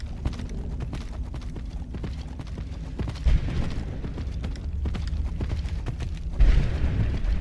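Horse hooves clip-clop in a rapid rhythmic patter while riding in a video game, with a low rumbling backdrop and a couple of heavier thuds, and no voices.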